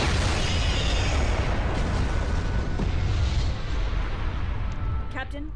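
A starship explodes in a Star Trek space combat game after ramming, a dense, sustained roar of blasts and rumbling debris filling the clip, with a few sharp electronic tones near the end.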